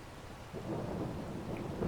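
In-game rain and low rolling thunder in Farming Simulator 22, a deep rumble swelling midway over a steady rainy hiss with no voices.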